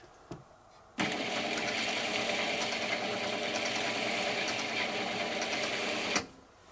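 A dot matrix printer runs with a continuous buzzing, rattling drone for about five seconds, starting and stopping abruptly, close and fairly loud.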